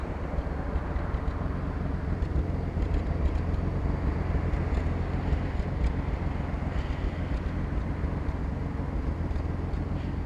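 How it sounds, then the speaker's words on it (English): A steady, low engine rumble from a Kawasaki ZX with a stock exhaust, fairly quiet and even, droning continuously with a faint rushing noise. "you can hear the exhaust note. Pretty quiet. It's got a stock exhaust."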